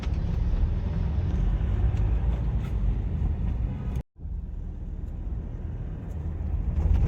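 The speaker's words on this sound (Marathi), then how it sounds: "बघू शकता हे वेस्टर्न एक्सप्रेस हायवेचं ट्रॅफिक." Road traffic on Western Express Highway in Mumbai makes a continuous low rumble of passing vehicles, close and steady, with a brief dropout in the middle before the drone resumes.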